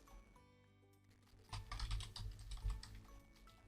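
Typing on a computer keyboard, a quiet burst of rapid key clicks that picks up after a short pause, close and alone.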